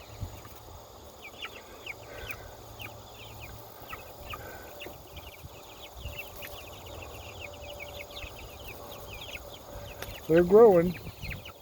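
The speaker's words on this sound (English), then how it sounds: "So many roosters." Growing young roosters on a small farm make faint scattered clucks and chirps over quiet background hiss, with a brief louder call near the end and a person speaking softly.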